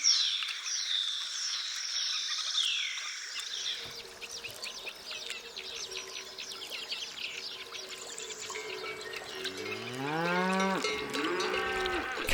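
A herd of cattle lowing on open Spanish dehesa pastureland, several deep moos rising near the end over an outdoor bed of birdsong and insects, with a faint cowbell clank; no talking.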